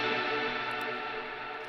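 A processed synth-like guitar tone sustains through chorus, simple reverb and delay, a smeared, echoing pad that fades gently with soft repeats trailing behind.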